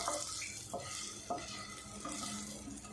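Eggs frying over a low flame make a soft, steady sizzle close by, with a few light scrapes of a spatula against the pan and no talking.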